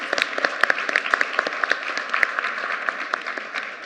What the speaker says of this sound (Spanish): Había que aplaudir.